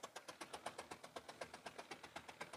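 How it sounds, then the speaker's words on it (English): An old tractor engine runs at a steam and gas show, giving a steady, rapid chugging beat with evenly spaced pulses, faint and somewhat distant. "Oh, that's just an old tractor."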